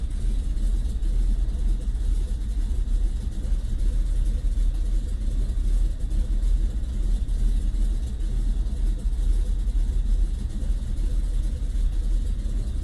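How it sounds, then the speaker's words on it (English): Aircraft engines in Microsoft Flight Simulator VR rev up as a steady, loud, low rumbling drone that holds evenly from start to finish, with no voices over it. "All right, let's get those engines revving."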